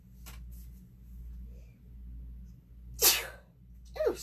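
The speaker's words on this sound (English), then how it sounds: "excuse me, I got to sneeze." A single sharp human sneeze bursts out near the microphone over a low steady hum, followed moments later by a smaller second breath-like burst.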